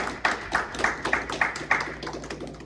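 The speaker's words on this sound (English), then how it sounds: "They're applauding you." A small audience claps after a talk on psychological aspects of sports injury and rehabilitation, a sparse run of distinct hand claps at a steady, even beat, close by and fading slightly.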